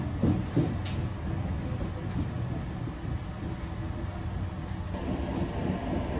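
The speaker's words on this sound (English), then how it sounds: "The train is really starting to quieten out now." Steady low rumble and rattle of a moving train heard from inside a carriage near the toilet, continuous and fairly loud with faint clicks and creaks, after leaving Bexley.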